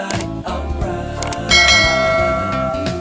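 A subscribe notification bell effect rings out with clear, sustained chime tones that swell loudly midway and linger, over a light background with no talking.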